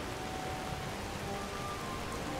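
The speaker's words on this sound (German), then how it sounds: "Der Regen ist immer noch sehr laut" Steady, loud rain in the video game Skyrim, an even wash of hissing patter with no breaks and no speech over it.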